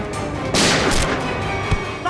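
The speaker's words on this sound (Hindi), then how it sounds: "अंदर से गोलियां चलने की आवाज आ रही है।" Loud gunfire close by inside a hotel: a heavy blast followed moments later by a single sharp shot.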